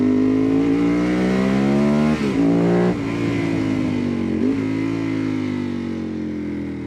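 A motor-swapped Ducati 748 motorcycle idles loudly up close, then its engine is blipped twice in sharp revs that rise and fall back to a steady throaty idle, no voices.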